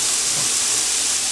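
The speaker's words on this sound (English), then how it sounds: "We're going to add our onions and our garlic. And we're going to saute this until they're tender and translucent" Onions and garlic sauté in olive oil in a skillet, giving a brief, even hiss that holds steady at close range with no talk over it.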